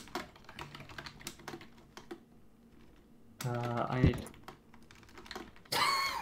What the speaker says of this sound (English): I'm clearly typing on that line